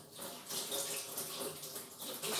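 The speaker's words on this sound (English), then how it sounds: "Wash this with the tap." Water from a tap pours steadily as a rubber seal from a Beldray appliance is washed under it, a continuous close hiss and splash with no talk.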